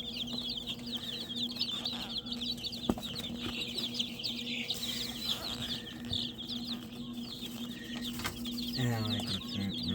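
Ayam Cemani and other chickens cluck and chatter in a busy coop alongside other poultry breeds, a continuous mid-distance flock sound with a brief louder squawk near the end.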